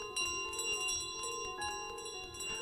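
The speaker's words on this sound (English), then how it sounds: "Bell." A bell in Untitled Goose Game rings on continuously, a sustained metallic ringing with repeated strikes at a moderate, steady level.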